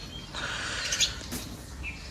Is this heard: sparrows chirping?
yes